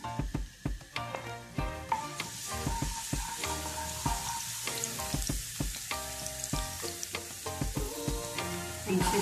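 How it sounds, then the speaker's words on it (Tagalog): Garlic sizzles steadily in hot cooking oil in a pan, with clinks and scrapes of a utensil and other kitchen clatter over it, close up, with no talking. "maglagay po tayo ng mantika. Lagyan na natin ang bawang"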